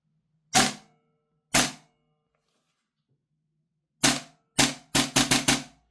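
A KWA Beretta PMX gas blowback airsoft SMG fires on semi-auto: two spaced sharp cracks, then a pause, then a quicker burst of five snappy shots, close and loud with no speech.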